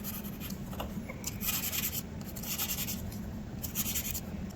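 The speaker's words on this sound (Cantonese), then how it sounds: "將張砂紙包喺個三角銼嗰度" Sandpaper wrapped on a triangle file smoothing the corners of a jewellery frame, faint, close scratchy rubbing in short bursts of strokes with no voices.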